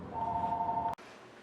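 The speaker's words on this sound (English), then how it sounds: "Let me go answer the phone." An electronic telephone rings with a steady warbling tone for almost a second, then cuts off sharply with a click, leaving quiet room noise.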